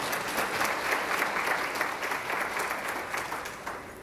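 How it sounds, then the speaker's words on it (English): Audience applause at a conference panel session, steady, dense clapping from many hands that holds for about four seconds without speech over it. "Clap for that."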